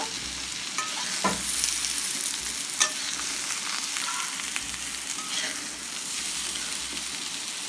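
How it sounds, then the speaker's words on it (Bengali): Boiled jackfruit and potato pieces fry in hot oil, producing a dense, steady crackling sizzle close up with a few faint clicks of a utensil, no talking over it. "তেল গরম হয়ে গেছে এঁচড় আলুটা ভেজে রেখেছি সিদ্ধ করে রেখেছি দিয়ে দেবো ভেজে নেবে একসঙ্গে"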